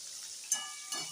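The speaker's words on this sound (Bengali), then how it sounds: "পটলটা অল্প তেলে ভাজা যাবে না, খুব বেশি তেলের প্রয়োজন দই পটল বানানোর জন্য।" Pointed gourd (potol) frying in a generous amount of hot oil, a steady soft sizzle with a couple of brief louder crackles, close and continuous with no talk.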